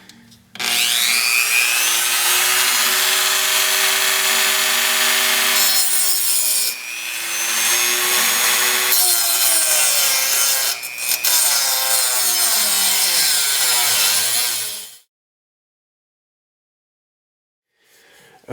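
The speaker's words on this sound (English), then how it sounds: "So I guess I'm going to go ahead and get my Dremel out and start working on it." A Dremel cutoff wheel cutting into the airbox of a 1985 Mazda RX-7, a loud, continuous high grinding whine that wavers and dips briefly before stopping abruptly, followed by silence.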